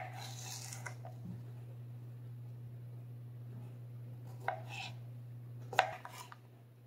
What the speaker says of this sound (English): slice our Persian cucumber lengthwise in half and then into thin half moons